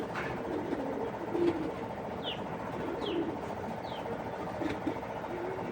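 A pigeon coos softly in low, repeated phrases every second or so, with faint chirps and a steady outdoor hum behind.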